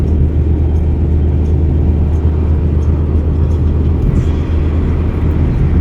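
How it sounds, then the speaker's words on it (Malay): Cars speed along a Malaysian road near Melaka, heard from inside a moving vehicle as a loud, continuous low engine and tyre rumble with no clear breaks. "Banyak laju kereta. Kereta banyak laju."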